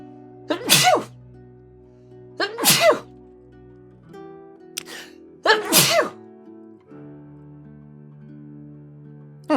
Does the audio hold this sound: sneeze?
yes